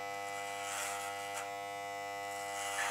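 Electric hair clipper running while cutting hair at home, a steady faint buzzing hum held continuously with slight swells and a brief crackle partway through.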